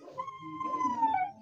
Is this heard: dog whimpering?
yes